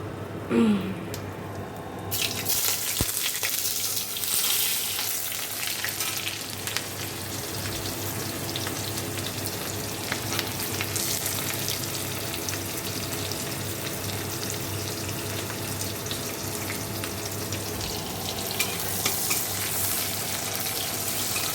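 Onion sizzles in hot oil in a home kitchen while greens curry is being made, a steady broad frying hiss running throughout with occasional clinks, close and moderately loud, no talking.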